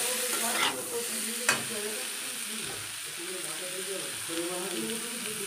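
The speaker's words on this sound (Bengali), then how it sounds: "বেগুনটা দিয়ে একটু নাড়াচাড়া নামিয়ে দেবো। বেগুন ভাজাটা হেভি লাগে খেতে।" Eggplant slices being stirred and fried in a pan, a steady close sizzle with scraping stir strokes and a couple of sharp utensil knocks throughout.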